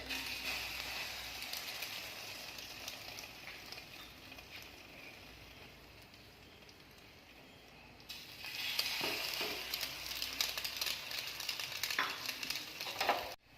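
Egg-dipped bread slices for French toast sizzle steadily in a hot pan, a soft frying hiss that grows louder and brighter about two-thirds through as more slices go in, with faint scrapes and no voices.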